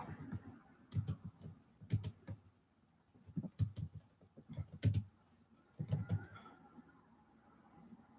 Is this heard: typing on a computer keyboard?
yes